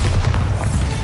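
Bombarda blasting spell in Hogwarts Legacy, a short, loud, dense booming blast filling the whole moment with a deep rumbling low end.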